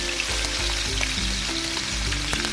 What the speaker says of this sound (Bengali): ইলিশ মাছগুলো তেলে দিয়ে দিলাম।